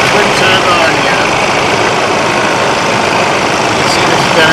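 A Ford Ranger Raptor Special Edition's 2.2 litre twin-turbo engine idles up close with a loud, steady, unbroken rumble and whoosh.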